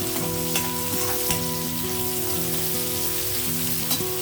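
Broad beans and long-cut onion frying in a pan give a loud, steady sizzle from close by. There is occasional clinking of stirring throughout, and no one speaks.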